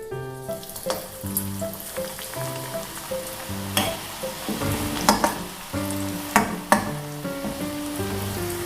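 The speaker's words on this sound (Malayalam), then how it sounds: "ചൂടായ എണ്ണയിലേക്ക് നമുക്ക് കടല ഇട്ട് കൊടുക്കാം" Chickpeas frying in hot coconut oil for a crispy masala snack: a busy crackling sizzle with bursts of sharp pops and the clatter of a spoon stirring in the pan, close and continuous.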